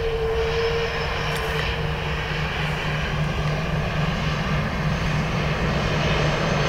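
A Eurowings ATR turboprop airliner at Dublin Airport gives off a loud, continuous propeller-engine drone with a steady tonal hum, sounding close and unbroken the whole time.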